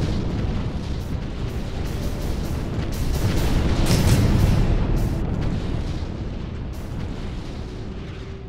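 An artillery barrage in the Sins of the Prophets video game, dense rumbling explosions blending into a continuous roar that swells in the middle and slowly fades.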